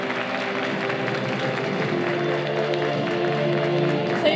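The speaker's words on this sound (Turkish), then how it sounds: "Habertürk köşe yazarı Sayın Ceyda Erenoğlu'nu alkışlarınızla." An audience at an award ceremony applauds steadily, a dense continuous patter of clapping from a crowd filling the room throughout.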